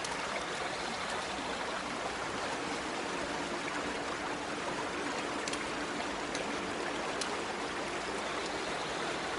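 Continuous flowing water in a video game, a steady broadband rush like a stream or trickle that holds evenly throughout with no talk over it.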